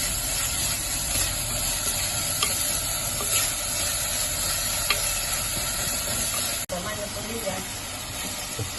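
Shallots fry in a clay pot on a very hot stove, a steady close sizzle and hiss with faint stirring scrapes throughout, briefly interrupted near the end.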